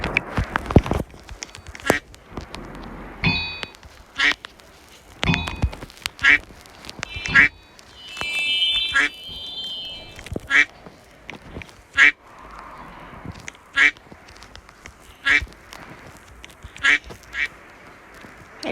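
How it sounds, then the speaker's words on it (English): Repeated duck quacks from a Roblox bird obstacle course game, sharp and evenly spaced through the stretch, with game sound effects and brief noises between them. "I just hear quack and quack and quack"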